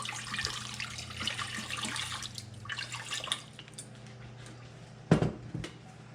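Water is poured and splashes into a kitchen vessel as two cups go in for a lechon pork belly sauce, a bright splashing stream for about three seconds, then quiet and a sharp clink of a cup or pot.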